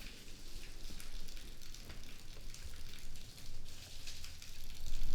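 Rain falls steadily outside, a dense patter on surfaces that swells and eases in waves, fairly loud and close, with no talking.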